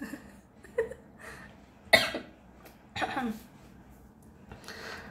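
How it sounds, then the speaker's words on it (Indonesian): A few separate coughs ring out close to the microphone, a small one, then a sharp loud one, then a rougher burst, with quiet pauses between. "bentar batuk dulu ya guys"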